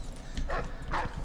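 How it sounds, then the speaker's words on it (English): A dog barks in the stealth video game Dishonored 2, two short yelping barks fairly close with a game ambience bed underneath. "Oh, just a dog."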